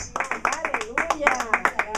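Congregation in a church clapping in a quick, roughly steady rhythm, with a sung or spoken voice gliding over the claps close by.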